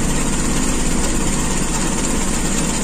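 A Toyota Kijang Super's carburetor engine idles close by at an unstable rpm, a loud continuous rumble with a slightly uneven pulse.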